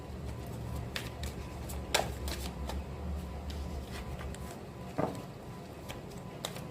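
Tarot cards are shuffled and drawn by hand in quiet, close riffling and sliding rustles, with a few sharper snaps and slaps as cards land, over a low background hum.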